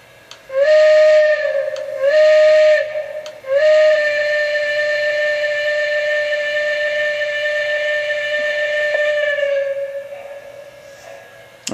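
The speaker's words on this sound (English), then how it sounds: "Okay, there's the whistle." A steam locomotive whistle sounds loud and close: two short blasts, then one long sustained blast that trails off, with no voices over it.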